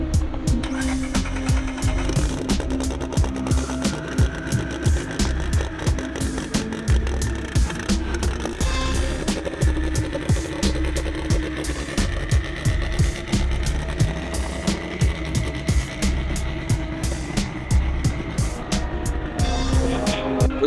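A car engine rumbles loud and close at a Tx2k car meet, holding a rough, steady idle with rapid ticking and clattering throughout for about twenty seconds.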